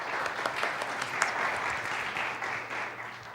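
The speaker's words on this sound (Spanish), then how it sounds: "Un aplauso para la doctora Adriana." An audience at a university business faculty talk claps for a speaker, a steady, moderately distant wash of applause with a low hum beneath it.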